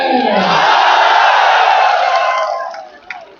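A huge political rally crowd at Gandhi Maidan in Patna roars and cheers loudly and continuously, then the wall of shouting drops away toward the end.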